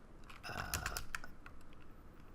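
Quiet, close typing on a computer keyboard while setting up a particle material in Unreal, with a short cluster of key taps that fades into soft room noise.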